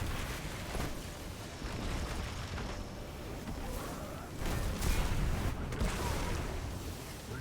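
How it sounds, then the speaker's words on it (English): Rocket launcher blasts in Destiny 2, a rumbling boom that swells around the middle and rolls on with a dense, noisy low-end roar, fairly loud throughout. "Fire another rocket."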